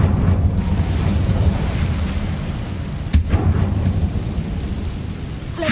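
The Incendio fire spell is cast in the video game Hogwarts Legacy, a dense roaring rumble with one sharp burst partway through, loud and continuous with no voices.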